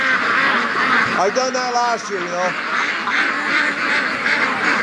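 Ducks, including Muscovies, quack on a free-range duck farm in a short burst of calls over steady outdoor noise, with a person talking throughout.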